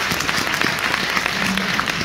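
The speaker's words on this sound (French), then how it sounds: "On va les applaudir très fort." An audience applauds soldiers and uniformed security forces at a gathering, a dense, steady wash of clapping hands that holds at full strength throughout, with no voices breaking through.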